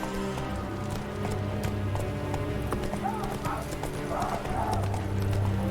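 Roach, the horse in The Witcher 3, gallops with steady, close clip-clopping hooves and a brief whinny, with game music and a voice talking over it.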